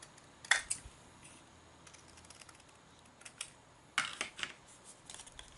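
Scissors cut the corners off folded card in two short bursts of crisp snipping and paper crunch, separated by quiet handling noise, close and soft with no talk.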